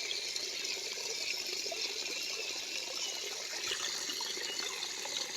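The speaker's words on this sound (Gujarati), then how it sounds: "ડોલ ભરાવા આવી ગઈ છે" Tap water pours steadily into a bucket as it nears full, a continuous close splashing and gurgling rush with no talk, even in level throughout.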